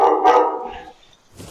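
Dog barking inside a Fortnite match, one loud close bark followed by fainter yips and a soft thump.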